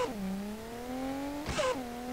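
A Nissan 240 in Street Legal Racing Redline revs its exhaust, the engine tone dipping then climbing steadily, with a brief scraping burst midway before the revving drone resumes, fairly loud and alone.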